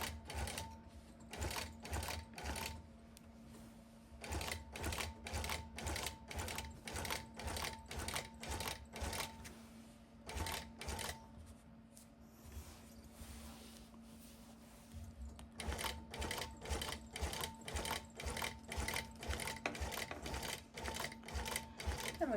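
A longarm quilting machine stitches through a quilt top and batting in rapid bursts of even mechanical clatter, pausing between runs; a steady hum continues underneath and a voice talks quietly at times.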